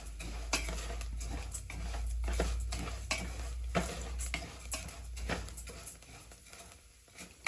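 Rice toasting in a pan for Mexican saffron rice gives soft, irregular stirring scrapes and light patters against a quiet, faint sizzle, close by.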